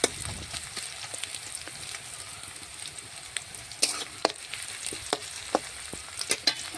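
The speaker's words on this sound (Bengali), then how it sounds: "নিয়ে পেঁয়াজটা একটু নাড়াচাড়া করে লাল লাল আমি ভেজে নেব।" Sliced onions fry in hot oil in a pan while being stirred for a Bengali chicken and potato curry, a steady close sizzle punctuated by scattered clicks and scrapes of the spoon.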